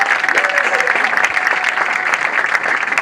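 Crowd applause at a Congolese cultural delegation's official reception, a dense steady roar of many hands clapping throughout, fairly loud and continuous.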